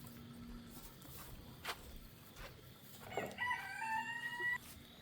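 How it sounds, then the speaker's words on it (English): A Silkie rooster crows once, a rising then held call, over an outdoor morning background of birdsong and clucking hens. "All of our silky roosters are out looking for some bugs this morning."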